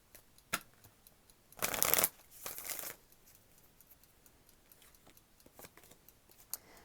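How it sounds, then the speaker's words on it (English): Two quick bursts of tarot cards being riffle-shuffled, close and crisp, surrounded by light taps and handling noises in a quiet room. "One more shuffle."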